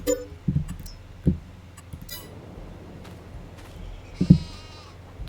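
Several short sheep bleats from the video game Farming Simulator 22 are scattered over a low background hum, with a louder bleat near the end.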